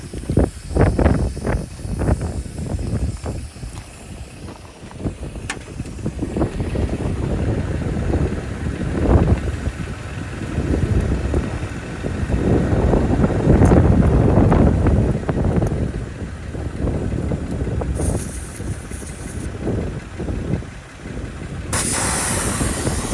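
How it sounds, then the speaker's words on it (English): Strong wind blows steadily outdoors during an off-road outing on Harris Springs Road near Las Vegas, buffeting the microphone with loud, rumbling gusts for the whole stretch and no speech. "It's so windy out here today."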